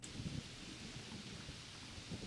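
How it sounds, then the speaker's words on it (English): Steady rain hisses throughout with low rumbling thunder underneath, a close, continuous storm with no voices. "this is rain sound effects"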